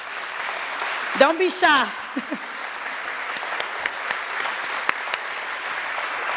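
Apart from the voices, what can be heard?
audience applause for the HR team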